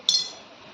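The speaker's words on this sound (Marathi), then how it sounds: "आता मी पाण्यामध्ये नाणं टाकतो" A single bright clink of a coin dropped into a glass of water, followed by a short fading ring, close and clear with no talking.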